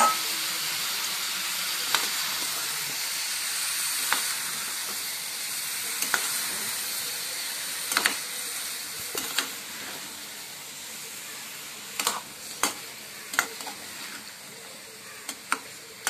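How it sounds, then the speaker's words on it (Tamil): Cauliflower sizzles and fries in a hot pan of oil for vegetable pulao with green peas, giving a steady frying hiss with soft stirring scrapes and a few sharp crackles and pops throughout. "இப்போ காலிஃப்ளவர் சேர்த்துக்கலாம்."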